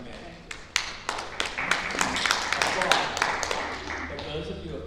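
Audience members at a legislative hearing on an anti-discrimination bill break into scattered, uneven clapping that builds from a few sharp claps into a denser patter, with a voice speaking underneath.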